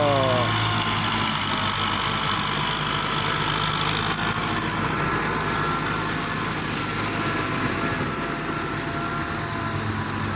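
A steady tractor engine drones throughout, a low rumbling idle with a constant mechanical hum and vibration, close by and continuous.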